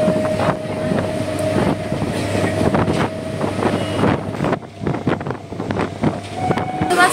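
A train arriving at a station, a loud rumbling roar with rhythmic clacks of wheels over rail joints and a steady hum, heard close and alone.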